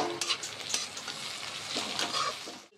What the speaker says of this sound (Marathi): आता टमाटा टाकूया। याला पण जरा थोडा त्याच्यात परतूया।